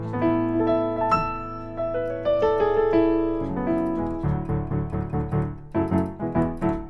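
Plain acoustic-style piano voice of a Yamaha PSR digital keyboard played alone, starting with sustained chords and moving into a run of repeated, rhythmic chord stabs, clear and close.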